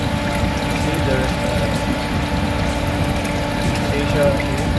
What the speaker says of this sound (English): There's the pump, and then water is being pumped out in this evaporator hole.